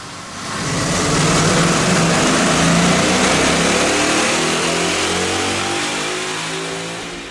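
A 2011 Mustang GT 5.0 V8 fitted with BBK headers and an aftercat X-pipe revs hard on a dyno, swelling into a loud sustained roar that holds for several seconds before easing off.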